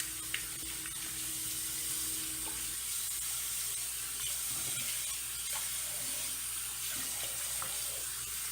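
Tap water runs steadily into a sink while someone rinses their face. It is a continuous close hiss with faint splashes and small clinks over it, and no talking.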